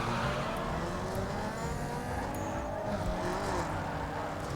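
A car engine revs and strains while drifting in Need For Speed Underground 2, a continuous loud engine drone with faint tire noise and no talking.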